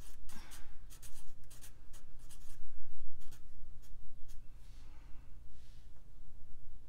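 Pen or pencil writing on paper while working through a physics torque calculation, a steady scratchy scribbling with short strokes and brief pauses, close and moderately loud, no talking.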